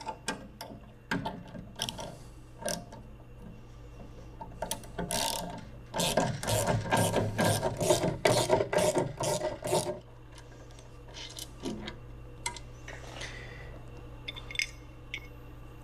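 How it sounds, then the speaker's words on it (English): Hand tool work removing luggage rack brackets from the trunk of a Ural motorcycle with a heavy duty spare tire rack, using a 5mm hex key and 13mm wrench: rapid ratcheting clicks and metal rubbing in a dense burst, then sparse taps, close up. "we're going to remove these brackets here"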